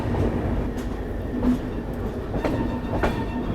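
Maithili Express, the Kolkata–Darbhanga train, pulling out of Samastipur station: a loud, steady rumble of rail cars with rhythmic clacks of wheels over rail joints and no voices.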